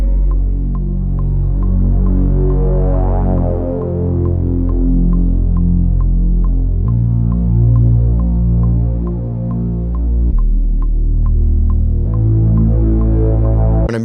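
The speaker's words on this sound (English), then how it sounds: "Growler Moog bass on Omnisphere," A growling Moog-style synth bass from Omnisphere holds deep, buzzy sustained notes that change pitch every few seconds in a smooth R&B arrangement, loud and throbbing, with no talking.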